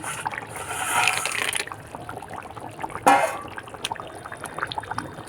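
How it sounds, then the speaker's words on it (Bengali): Rui fish curry gravy on a home stove boils steadily with a soft, continuous bubbling and hiss, louder in the first second and a half, with a brief sharp clatter midway. "ঝোলটা টকবক করে ফুটতে শুরু করে দিয়েছে"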